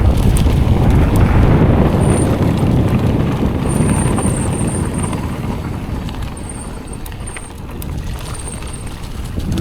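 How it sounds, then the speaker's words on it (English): Heavy wind buffeting a microphone during a mountain bike ride in the South Moravian countryside, a loud continuous low rumble that eases slightly midway, with faint high tones drifting above it. "There is a lot of wind and it is not conclusive to good sound when you're doing stuff like this."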